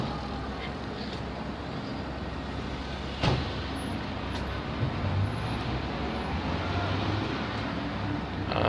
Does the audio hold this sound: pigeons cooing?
no